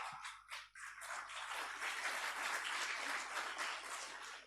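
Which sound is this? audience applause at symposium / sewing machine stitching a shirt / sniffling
audience applause at symposium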